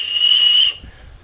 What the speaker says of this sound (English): He threw in some free Nerf whistles, guys.